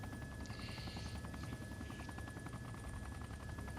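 A helicopter in the video game Arma 2, heard as a steady, loud rotor and engine drone with a whining buzz throughout and no talk over it.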